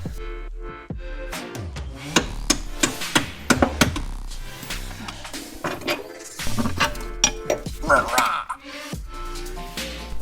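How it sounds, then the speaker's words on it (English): Metal tools clank and ratchet while the front tension rod and lower control arm are unbolted from the subframe of a Nissan 240SX, in irregular close knocks and clinks. "Now I'm unbolting the front tension rod and the lower control arm from the subframe."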